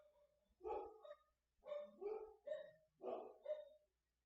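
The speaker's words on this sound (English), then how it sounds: "And my dogs are barking." Several dogs bark in short bursts of two or three yaps, repeating about every second, fairly close and clear over a quiet background.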